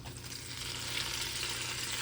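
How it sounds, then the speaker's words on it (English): Lettuce sizzles in a hot pan, a steady bright crackling hiss that swells slightly over two seconds, close and fairly loud, with no voices. "we can get us a good sizzle on this lettuce"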